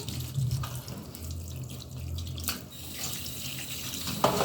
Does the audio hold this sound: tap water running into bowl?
yes